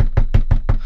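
Knuckles rap a door in a quick, steady run of six loud, close knocks.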